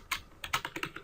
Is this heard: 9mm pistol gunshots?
no